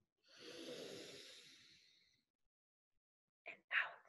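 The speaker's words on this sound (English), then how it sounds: "Breathe in through your nose. And out through your mouth." Slow, quiet breathing close by: a long drawn inhale through the nose, a pause, then short soft breaths out through the mouth.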